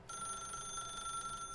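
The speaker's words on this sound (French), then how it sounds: "Ah oui, c'est le téléphone." Phone in The Stanley Parable rings steadily, a bright electronic warble with sustained pulsing tones filling the whole stretch, moderately loud with no talking.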